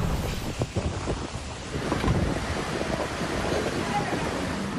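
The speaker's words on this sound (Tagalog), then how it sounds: "malakas na hangin at ulan din ang nanalasa" A steady roar of strong typhoon wind with a dense wash of rain or surf noise, buffeting the microphone throughout, in Surigao City, Philippines.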